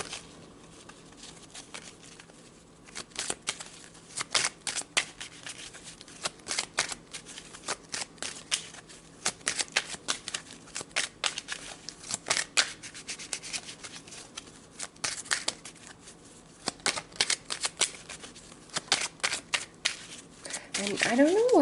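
Tarot cards are shuffled close by in a long run of soft papery riffles and rubbing bursts of uneven rhythm, some louder than others, with faint quiet stretches between them and no clear voice.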